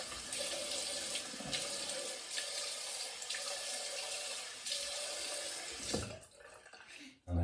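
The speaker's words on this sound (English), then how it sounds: "So I'm rinsing off with cold water." Cold tap water runs steadily into a sink while rinsing off after a shave, a continuous close splashing stream that cuts off near the end with a brief clatter.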